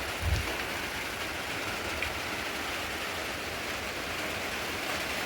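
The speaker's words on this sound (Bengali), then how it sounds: "কেমন বৃষ্টি পড়ছে, দেখুন।" Heavy rain falling outside a home, a dense steady hiss of downpour with no breaks, close and even, with no voices.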